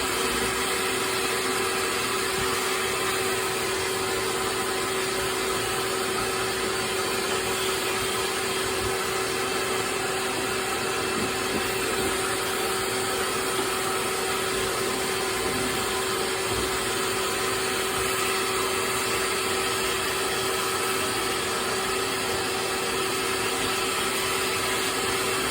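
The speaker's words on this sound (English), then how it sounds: "you just hook it up to a shop vac, and then you use the tube to suck up all the dust and lint" A shop vac with a hose tube steadily drawing dust, lint and hair off a refrigerator's condenser coils, a loud continuous motor drone with a steady whine holding unchanged from start to finish, no talking.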